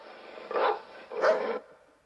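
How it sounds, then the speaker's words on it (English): Dogs bark in two dense, close bursts a little under a second apart, each fading quickly, set as a sound-effect take for a music production alongside other effects. "we have dogs barking here. Actually, I have 2 takes of dogs barking."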